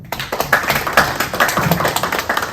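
An audience welcoming a lecturer on smart-farm technology with brisk, loud applause, many hands clapping in a fast, uneven patter.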